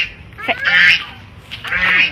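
Geese honk inside a chicken coop in two loud, close, nasal calls, with a voice speaking faintly in the background.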